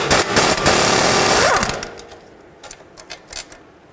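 Removing a 13mm bolt from the strut bracket holding the ABS wire on a 2007-2010 Chrysler Sebring: a loud, rapid power-tool rattle for about two seconds, then fading to quieter clicks and clanks nearby.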